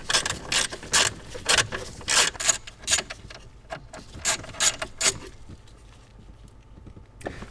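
A hand ratchet clicks rapidly in bursts while removing bolts from a panel on a Dodge Grand Caravan, close and crisp, pausing briefly between turns and trailing off into quiet at the end.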